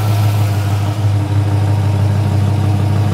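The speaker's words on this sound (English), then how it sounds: "Let's go listen to the exhaust." A 1966 Shelby GT350 Mustang's 289 Hi-Po V8 with mechanical lifters idles loudly and steadily at close range, a deep rumbling exhaust note with a slight dip partway through.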